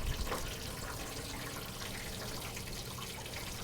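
Rainwater runs off a roof into a OneGuard gutter guard, a faint, steady trickle and splash with soft hiss throughout and no voices.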